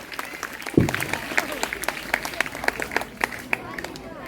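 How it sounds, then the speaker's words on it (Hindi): Audience at a school Independence Day celebration at GSSS Kalod Gudha breaks into scattered, crisp clapping after one heavy thump, steady and moderately loud over a murmuring crowd. "जोरदार तालियां प्रतीक्षा के लिए"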